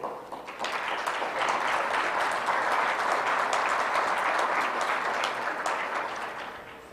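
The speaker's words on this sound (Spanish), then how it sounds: "Le solicito un aplauso, por favor." A conference audience at a rural development and food security forum applauds, dense, sustained clapping from a sizable crowd that builds quickly, holds steady and begins to fade.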